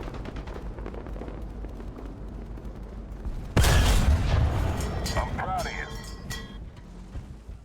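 A single heavy tank cannon blast in War Thunder booms out loud and close, its rumble trailing off over a few seconds, set against a steady engine drone and quiet narration beforehand.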